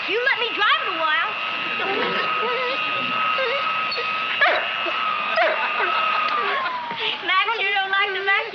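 A dog barks, yips and whines in agitation at a running vacuum cleaner in a home, its steady motor drone continuous beneath short repeated yelps; people speak at points.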